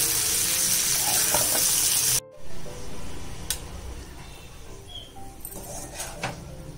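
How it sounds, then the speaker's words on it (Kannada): Prawns sizzle as they are stir-fried with pepper over a low flame for a pepper prawn fry, a loud steady frying hiss that cuts off abruptly, followed by quieter stirring, scraping and occasional light clinks. "ಇದನ್ನೆಲ್ಲ ಮಿಕ್ಸ್ ಮಾಡ್ಕೋಬೇಕು ಲೋ ಫ್ಲೇಮಲ್ಲಿ"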